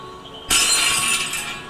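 In the Stray video game, a paint can pushed off a ledge smashes through glass with one sudden loud shatter, then a bright tinkling of shards that tapers off.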